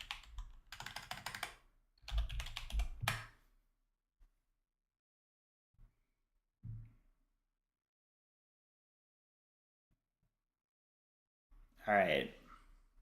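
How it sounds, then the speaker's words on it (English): Computer keyboard typing comes in a few short bursts of rapid clicks, close and fairly quiet, separated by long silences, with a brief voice near the end. "I'll type it."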